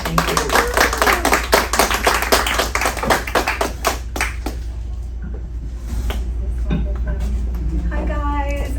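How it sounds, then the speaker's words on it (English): Audience at an empowerment network talk claps to welcome a speaker, sharp close handclaps dying away after several seconds, followed by a low hum and quieter room noise with some voices. "please give her a warm, huggy welcome and applaud her"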